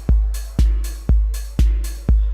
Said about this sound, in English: I have a little beat running on the TR-8 here already.